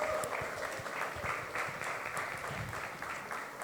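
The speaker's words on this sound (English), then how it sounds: "Make some noise for them, clap for them, please." Audience applause at an inter-school quiz competition, a steady wash of many hands clapping fills the room, loud and continuous, with a faint voice underneath.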